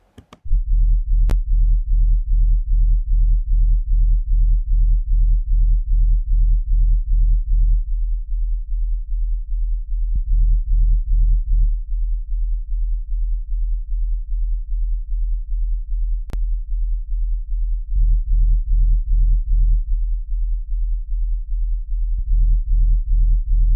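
A soloed low bass line pulses in a steady rhythmic pattern of deep tones, with nothing above it, the pitch shifting every few seconds.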